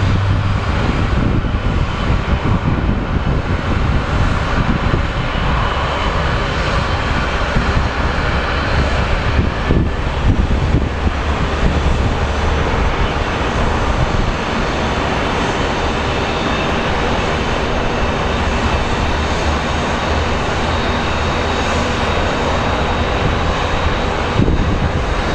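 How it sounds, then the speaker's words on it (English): A small Embraer regional jet arriving from Portland lands at Phoenix Sky Harbor International Airport, a loud, sustained engine roar with a low rumble and steady whine lasting throughout, plus some wind buffeting. "get a landing of a little Embraer, which is a pretty remarkable plane"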